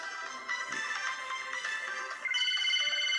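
An in-game phone rings in a Roblox pizza tycoon, a bright electronic ringtone warbling in repeated bursts that grow louder and shift pitch near the end, alone and without talk.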